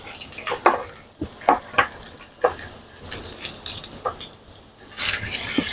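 Beef searing in hot oil for carne guisada, a low sizzle broken by irregular scrapes and clatters of a utensil against the pot, plus bursts of louder hissing near the end.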